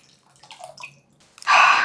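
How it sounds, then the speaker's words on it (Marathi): Water is poured into a mixer jar in a brief, loud gushing splash that arrives at the end, after a few faint clinks and handling sounds. "मिक्सरचं भांडं पण स्वच्छ करून तेही पाणी घालूयात"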